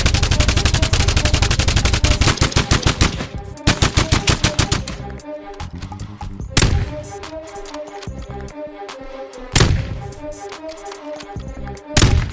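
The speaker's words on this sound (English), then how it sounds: "In the next BattleBit Remastered update, guns are gonna sound like this." Gunfire from the shooter game BattleBit Remastered: a rapid, loud burst of automatic fire, then several separate sharp shots and short bursts, with no talking.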